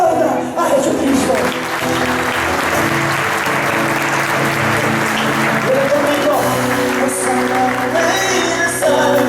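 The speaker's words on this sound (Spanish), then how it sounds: "Aplauda a Jesucristo" Loud, sustained applause from a large church congregation filling a room, steady throughout with voices and music mixed in.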